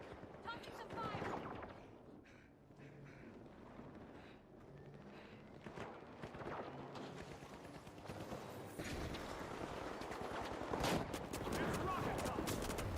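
Gunfire rattles in a shooter video game, bursts of shots and machine-gun fire amid wind and vehicle noise, with a player talking over the action at a fairly low overall level.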